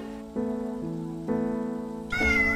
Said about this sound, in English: So I can just meow meow all the time.